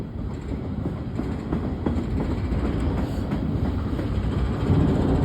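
A train passing under a bridge at North Murrow Boulevard, a loud continuous rumble with rhythmic wheel clatter and a faint high whine, heard close and steady throughout without talk.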